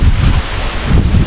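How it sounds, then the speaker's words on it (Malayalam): Wind sweeps across open paddy fields and buffets the microphone with a loud, gusting roar that swells and eases over the span, with no voices. "നല്ല കാറ്റ്, ഇളം കാറ്റടിക്കാൻ തുടങ്ങിയിട്ടുണ്ട്"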